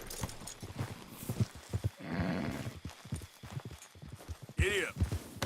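A horse in Red Dead Redemption 2 clops along with uneven hoofbeats and gives a loud whinny near the end, while voices speak intermittently over the sound.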